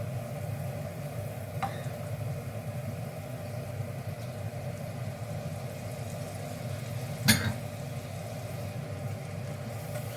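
Chopped peeled tomatoes sizzle in a frying pan, giving a soft, steady hiss with low cooking rumble and one sharp click of a utensil partway through.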